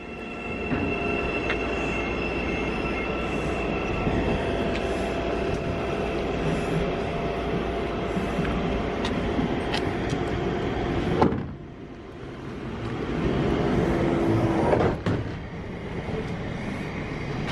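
A train bound for London rumbles loudly nearby with rattling wheels and occasional squeals, its noise shifting midway as the carriages roll past.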